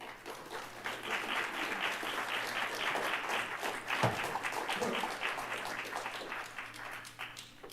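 Sustained applause from an audience welcoming a speaker to the podium at an event, steady dense clapping throughout with a brief thump midway.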